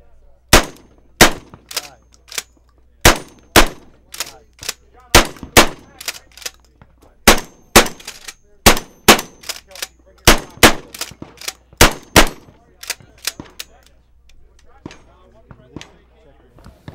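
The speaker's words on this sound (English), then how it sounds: "I think we're the fastest shotgun out." Rapid shotgun fire on an outdoor shooting range at a trade-show range day, a new magazine-fed shotgun letting off about twenty-five sharp, loud blasts in quick irregular bursts, with faint voices in the background.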